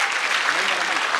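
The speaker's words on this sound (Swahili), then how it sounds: "Tupigie huyu mheshimiwa makofi." An audience at a student career fair in Murang'a, Kenya, claps in a dense, steady burst of applause, close and loud for about a second.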